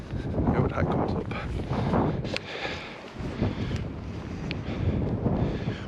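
Blustery wind buffets the microphone in a steady low rumble, with faint voices mixed in underneath.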